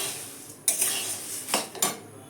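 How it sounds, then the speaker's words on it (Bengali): Puffed rice being dry-roasted in a pan: quiet, close stirring with a few sharp scrapes and clinks of a utensil against the metal. "এবার একটু মুড়িটা একটুখানি গরম করে নিচ্ছি, মানে আর কি ভেজে নিচ্ছি"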